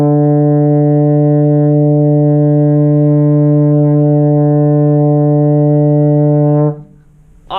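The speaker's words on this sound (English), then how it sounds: "we're going to get a nice buzz right through our baritone to sound like this" A baritone horn holds one steady, buzzy low D for several seconds before cutting off abruptly.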